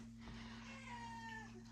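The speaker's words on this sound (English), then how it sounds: "it's not Meimei meowing" A Ragdoll cat gives a single soft, drawn-out meow, faint and a little distant against a steady low household hum.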